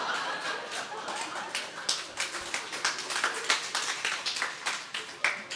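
A live audience at a Chinese crosstalk (xiangsheng) comedy show claps. The applause comes in uneven rapid bursts that swell and fade, with light chuckles mixed in.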